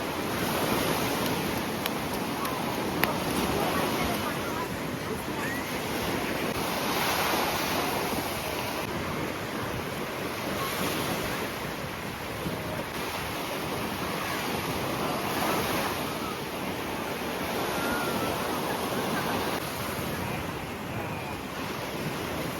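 Black Sea waves wash steadily onto a beach at Chornomorsk in September, a continuous roar of surf with gentle swells and wind noise on the microphone, no voices.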